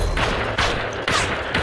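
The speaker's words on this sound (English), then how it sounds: "Quit shooting at me!" Gunfire in the VR video game Population: One comes as three close, loud shots spaced about half a second apart.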